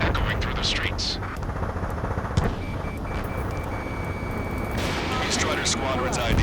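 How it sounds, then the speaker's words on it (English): Dense, continuous rumble of gunfire and a roaring jet-like wash in the video game Ace Combat 7: Skies Unknown, with a steady electronic tone running through the middle. "Gunfire and the roar of jets echoing through the streets."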